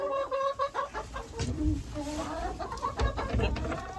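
Chickens cluck close by inside a farm coop, several hens giving short, irregular clucks and calls while a person speaks softly among them.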